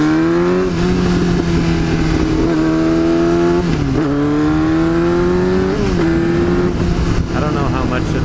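A Yamaha R6 sport motorcycle engine drones loudly and steadily while riding, its pitch climbing and dipping with gear changes, as a rider talks over it throughout.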